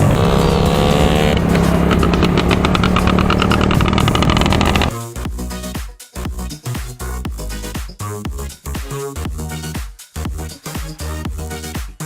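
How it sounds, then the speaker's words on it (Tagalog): A motorcycle engine runs loud and close, first holding a steady revving drone, then breaking into choppy bursts of throttle and brief pauses with sharp cut-offs. "nakita nyo na yung motor ni Miss Rica"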